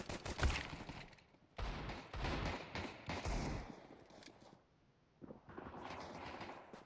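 Rapid bursts of Glock 19 pistol fire in a shooter video game, loud clustered volleys separated by short quiet gaps, with no talking over them.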